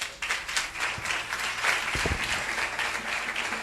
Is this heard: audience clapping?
yes